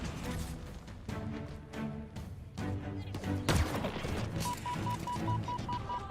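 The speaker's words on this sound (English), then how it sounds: "It's a rocket launcher." Explosive weapon blasts in Halo Infinite, with a sharp loud impact mid-clip over ongoing layered gunfire and game sounds, plus a repeating electronic beep near the end.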